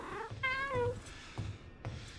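A housecat gives one clear, nearby meow with a falling tail, followed by faint soft rustling and small thumps in a quiet room.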